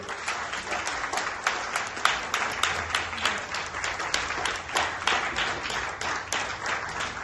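Sustained applause from a crowd, many hands clapping continuously at a steady loud level for several seconds.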